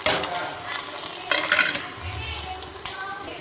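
Garlic spice mix dropped into hot tempering oil with popped mustard seeds while making dal dhokli, crackling in a steady close sizzle with a few sharp pops and clinks of stirring.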